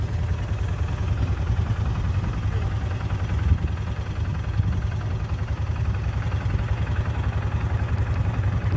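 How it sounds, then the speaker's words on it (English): Antique steam engine running at the Tri State Gas Engine and Tractor Show, a steady low chugging rumble with faint clatter, continuous and fairly close. "Bunch of steam engines here."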